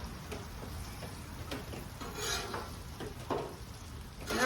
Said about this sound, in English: And then here we've got onions and snow peas. Give these little things a flip here.